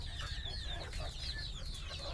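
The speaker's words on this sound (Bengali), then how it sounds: "এগুলো সব হলো দেশি মুরগি" Desi chickens clucking together on a farm, a run of overlapping close clucks over a low steady background rumble.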